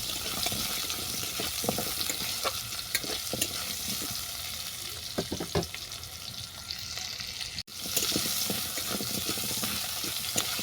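Okra and hog plum fry together in a pan with a constant loud crackling sizzle, broken by a brief gap and occasional stirring scrapes, close and without talk.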